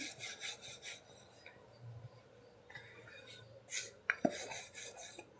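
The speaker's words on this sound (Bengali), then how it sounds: "এইভাবে আমি রুটিগুলো বেলে নিচ্ছি।" Soft roti dough is rolled out with a rolling pin, giving quiet rhythmic rubbing and rasping strokes with a few light knocks and clinks, faint and close.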